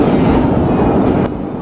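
Steady rumble and rattling clickety-clack heard from inside a moving passenger train on a trip from Kota Lama, continuous and fairly loud, with no one speaking.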